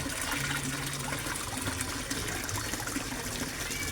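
Small 24-watt Aquaspeed submersible pump pushing water in a koi fish setup, a steady close rushing and splashing flow with no pauses.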